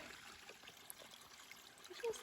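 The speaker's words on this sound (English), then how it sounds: "I just love little streams." A small stream on the Pacific Crest Trail trickles softly and steadily, quiet and close, with faint gurgles and a brief splash near the end.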